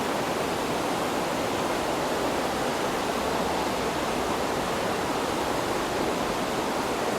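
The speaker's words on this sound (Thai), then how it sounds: "มีน้ำตก ลงมาจากภูเขาด้วย" A steady, dense rushing roar of a waterfall pouring down a mountain at Aareschlucht gorge, Switzerland, unbroken throughout and with no voices.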